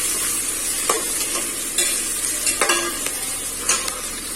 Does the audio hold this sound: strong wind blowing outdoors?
no